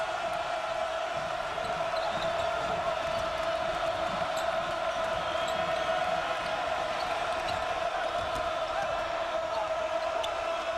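A basketball crowd at an Oregon State game against Arizona keeps up a steady, dense roar of cheering throughout, with a sports commentator's voice running over it.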